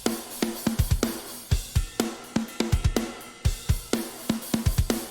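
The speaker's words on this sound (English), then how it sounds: "I end up with drums that sound much more realistic and less robotic." Programmed drum kit grooving in a steady, realistic pattern, with punchy kick and snare hits, bright cymbals and varied accents over about five seconds; no voices.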